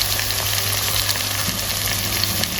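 Ground masala paste for a mixed sprout kurma sizzles and fries steadily in hot oil in a pan, a loud, dense crackle that runs continuously with faint stirring beneath.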